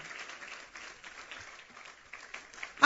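A church congregation claps at a pastor's prompt during a sermon, a soft, fairly thin patter of hands that rises into a louder burst right at the end.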